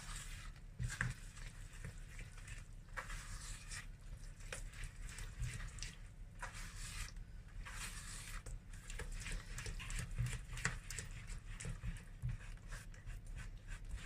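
A spoon stirs chocolate brownie mixture in a bowl with steady, rhythmic scraping strokes, close and moderately quiet, with no voices.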